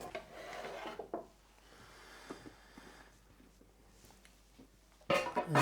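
Knife slicing Persian cucumbers on a board, with a burst of crisp cutting at the start and again at the end and quieter scraping and taps between.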